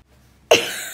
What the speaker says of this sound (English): try coughing again